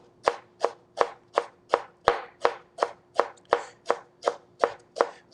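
A kitchen knife slicing rolled fresh basil into thin chiffonade strips on a cutting board, a dozen crisp, evenly spaced taps in a steady rhythm, close and clear with no talking.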